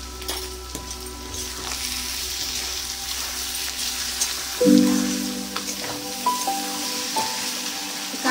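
Sattu posto, a large batch of roasted gram flour and poppy-seed dish, sizzles and fries in mustard oil in a pan, with a steady crackle, a few metal clinks and a brief stir near the middle, no voices.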